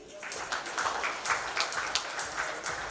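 Steady applause from an audience at a Water Digest event, a dense continuous patter of many hands clapping at moderate loudness throughout, with no breaks.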